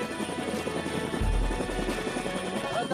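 A helicopter landing at a small village in the jungle makes a close, heavy rotor drone with a throbbing low pulse that swells briefly in the middle.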